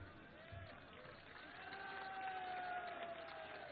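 A rally crowd claps and cheers, building into a dense, steady wash of applause that grows louder toward the end.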